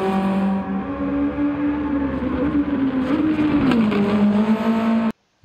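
A tuned Mitsubishi Lancer Evolution IX in Tokyo Drift trim races along Tokyo's Shuto Expressway in Gran Turismo 7. Its engine holds a loud, steady droning note that sags and recovers midway, then cuts off abruptly.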